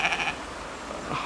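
Sheep near a farm track bleat in a short, fairly close call at the start, then a fainter second bleat follows over outdoor background noise.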